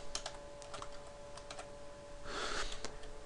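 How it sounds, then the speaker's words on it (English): Rapid keystrokes on a computer keyboard while a C# program is entered, a quick run of close clicks followed by a denser burst of keys and a final tap, with no talking. "So we're just going to type in hello world,"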